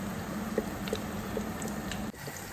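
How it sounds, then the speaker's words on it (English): Quiet sizzling and gentle bubbling of wrapped plantain frying in oil, with faint soft pops scattered through a steady low hiss. "We are frying our wrapped plantain guys."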